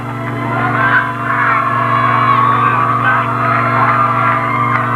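A large football crowd at the 1994 Rutland vs. Mount St. Joseph varsity game roars steadily at kickoff, a dense sustained wall of cheering and whoops with a low hum running underneath.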